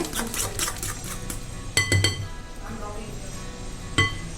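Banana bread batter is stirred with cinnamon powder in a bowl, with light clinks of a spoon against the bowl, a couple of sharper knocks, and a soft mixing rustle throughout.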